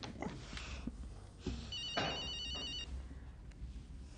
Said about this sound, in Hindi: अरे कोई इम्पोर्टेंट कॉल भी तो हो सकती है।